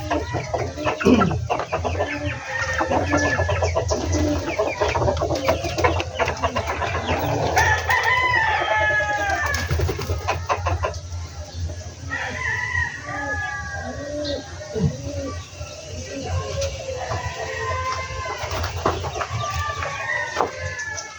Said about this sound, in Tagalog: yung ating manok na naglilimlim